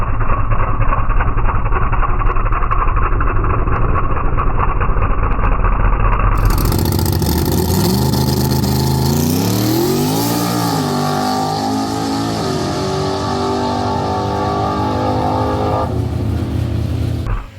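A Ford Mustang drag car idles with a loud, lumpy rumble, then its engine roars up sharply and keeps revving hard and close as it launches down the track.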